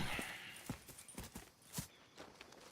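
Video game horses walking, their hooves clip-clopping in an irregular steady rhythm at close range, fairly quiet with a soft background ambience.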